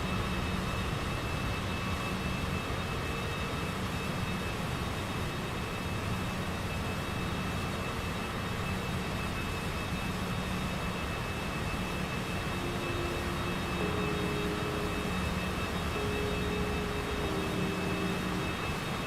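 A Cessna Citation CJ4 business jet lands at Miami in Microsoft Flight Simulator 2024, a steady loud engine roar with a broadband rush and faint shifting tones, no one speaking.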